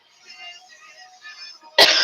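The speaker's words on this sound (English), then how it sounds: "excuse me, for any and all coughs" A single sharp, loud cough bursts out at the end after a quiet stretch of faint tonal murmuring.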